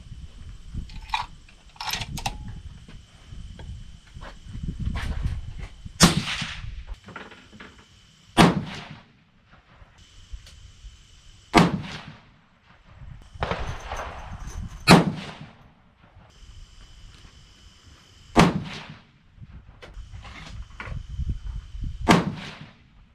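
A 6.5 PRC rifle firing Hornady 153gr A-Tip loads over Retumbo powder, five sharp, loud shots spaced a few seconds apart, each cracking and echoing briefly over a low, rumbling outdoor background.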